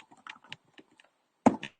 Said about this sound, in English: Everything I'm typing is not even showing while I'm typing.